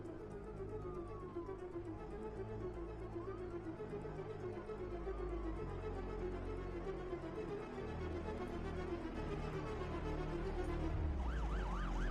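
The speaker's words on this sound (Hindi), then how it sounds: "पुलिस की गाड़ी आ रही है, जल्दी।" A police car siren wails steadily through continuous traffic rumble, its rising and falling tone fairly distant, with a sharper swelling wail near the end.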